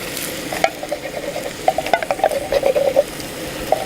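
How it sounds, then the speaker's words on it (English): Camping pasta being stirred in a metal tin, spoon scraping and clinking against the sides in irregular bursts over a soft background sizzle, close and clear with no voices. "just give that a bit of a stir"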